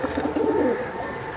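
A large pigeon gives a short, close, low cooing call, a soft rolling coo heard clearly on its own.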